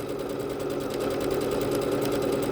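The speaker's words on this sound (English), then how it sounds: "It is moving the fabric back and forth through the machine" A Bernette B-77 sewing machine running fast on a decorative floral stitch, a dense, steady mechanical whir with rapid needle chatter, close and continuous with no talk.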